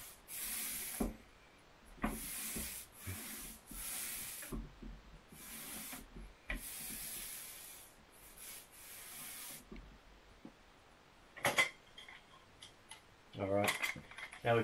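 A paint roller is drawn across a ceiling in repeated rough, hissing strokes of a second or two each, close and fairly quiet, with gaps and some handling noise between passes.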